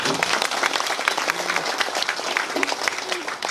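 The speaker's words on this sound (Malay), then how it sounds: "Tepuk tangan untuk PAS sekali." Audience at a PAS political rally in Malaysia clapping and cheering in a steady, dense wave of applause throughout, with voices mixed into the crowd noise.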